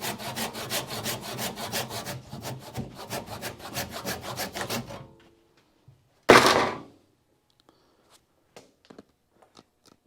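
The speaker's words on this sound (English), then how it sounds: "we're gonna have to cut it by hand" A hand saw cuts through dry wood for a walking cane in a quick run of rhythmic rasping strokes for about five seconds, followed by a sharp knock and a few quiet handling taps.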